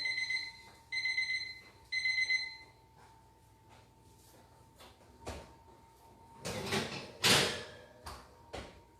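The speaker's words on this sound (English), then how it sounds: "Oh, there's the timer." A kitchen timer rings while chocolate banana muffins bake, giving three loud, evenly spaced electronic beep bursts near the start, then falling silent as clattering and knocks from the kitchen follow.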